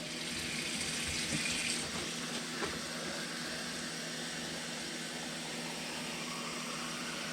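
Cold tap water runs steadily while a frozen duck is rinsed inside, a continuous hissing, splashing stream with slight gurgles as the cavity fills, close and unbroken throughout.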